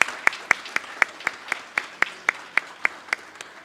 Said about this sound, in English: I agree with the senior over there who started that clapping.